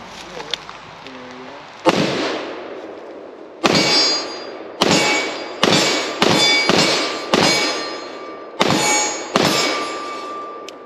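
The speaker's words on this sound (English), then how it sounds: "since last time I got to shoot the MCX, I figured today we'll let Fox have first shots" Seven sharp, loud gunshots from a SIG-Sauer MCX Spear 7.62 pistol fired outdoors in an irregular string, each a hard crack with a ringing metallic tail, preceded by faint handling noise.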